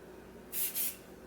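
A close, soft double hiss of hair spray is misted onto braided hair, two quick bursts over a low background hum.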